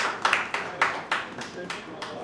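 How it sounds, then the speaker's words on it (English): An audience at a December community event claps in a short, sparse round of applause, with a few distinct claps at a moderate distance. "Give her a round of applause, please."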